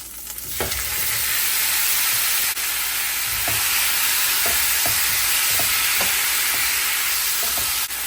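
Shrimp sizzling in a hot pan with Scotch bonnet pepper and pimento, a loud continuous frying hiss close by, punctuated by light stirring clicks throughout, no voices.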